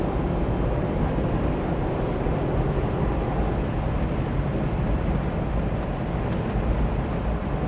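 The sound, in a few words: 1958 Chevy Impala 283 3-speed convertible driving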